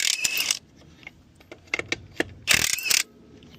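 A socket wrench works loose the lug nuts on a trailer wheel while a spare tire goes on after a blowout, giving bursts of close metallic ratcheting and jangling clatter with quieter clicks between.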